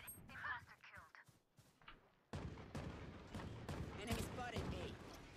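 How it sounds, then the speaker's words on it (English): Gun firing in a video game, a rapid series of sharp shots with a brief lull, then heavier sustained fire, fairly quiet overall, with a voice speaking early on. "Cool sounding gun."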